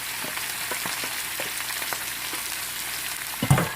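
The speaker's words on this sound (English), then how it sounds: "the next step is we're gonna fry the dry fish up a little" Guyanese dry salt fish fries in a pan with a soft, steady sizzle, broken by occasional light taps and crackles, then a sharper clatter near the end.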